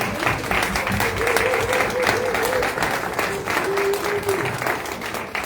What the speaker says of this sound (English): I want to give a round of applause to the audience for a bunch of great questions